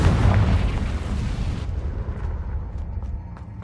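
A Confringo fire spell explosion in Hogwarts Legacy: a loud, deep booming blast that hits at once and rumbles away over a few seconds, with faint crackles trailing behind.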